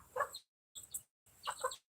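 A hen clucks in three short, soft bursts with brief pauses between them, fairly close and otherwise quiet.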